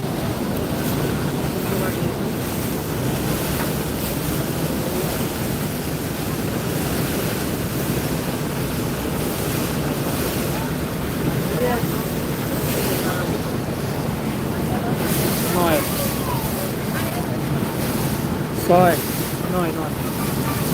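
A passenger launch heads along a river on a morning picnic trip, heard as a steady, close wash of wind and rushing water over a low engine drone that runs unbroken throughout.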